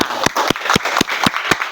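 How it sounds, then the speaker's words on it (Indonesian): Students in an Indonesian classroom clap together in a short, regular burst of sharp claps, fairly close and steady, with no talk over it. "beri tepuk tangan buat teman-temannya"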